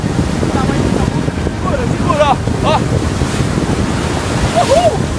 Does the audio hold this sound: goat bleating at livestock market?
no